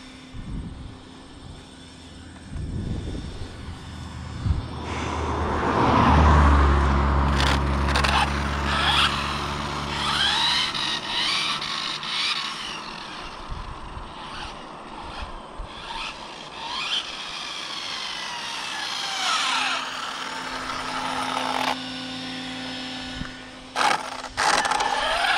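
An ARRMA Limitless RC car on a speed run that ends in a crash screams past at very high speed, its motor whining loudly with rising and falling pitch sweeps over a steady background hiss.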